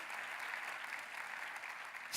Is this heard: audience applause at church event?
yes